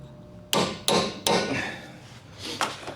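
Hammer blows drive a punch to lock the CV axle nut on a 2006–2011 Honda Civic. Three sharp metallic strikes land at a steady rhythm, then after a pause two more hits come, close and loud in a quiet garage.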